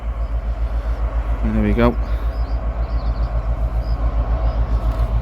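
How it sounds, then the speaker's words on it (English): A train passes in the distance beneath a steady, droning mechanical hum, with a person speaking briefly over the low rumble. "There's a train there going past."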